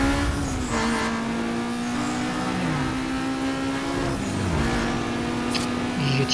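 Toyota Supra engine racing in Need for Speed Most Wanted: a loud, continuous engine roar with rising and falling revs through gear shifts, close and sustained, and a voice speaking over it.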